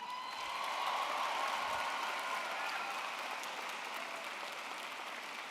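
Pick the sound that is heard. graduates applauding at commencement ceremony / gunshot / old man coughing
graduates applauding at commencement ceremony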